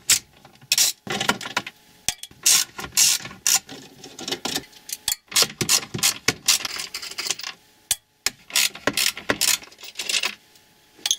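A ratchet clicks rapidly while undoing 10 mm screws on the dashboard of a Renault Espace/Rodius, in repeated bursts of ratcheting with brief pauses, close and crisp with no talking.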